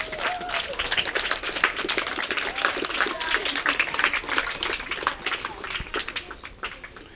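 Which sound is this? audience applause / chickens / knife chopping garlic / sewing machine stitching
audience applause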